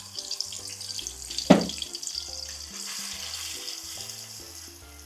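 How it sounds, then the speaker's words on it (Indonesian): Spice paste with kaffir lime leaves and lemongrass sizzles in a pan for shredded tongkol tuna, a steady close frying hiss with one sharp splashy burst early on, under soft background music. "Tumis bumbu buat ikan suir."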